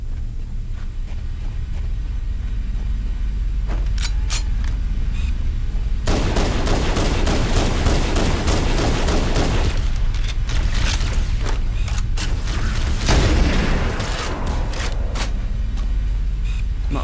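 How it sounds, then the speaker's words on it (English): Gunfire from a Marine's sniper rifle in Halo CE Anniversary, heavy sharp shots that pile into dense bursts from about six seconds on, loud over a steady game-ambience hum. "You can just hear him firing it off four rounds every single time."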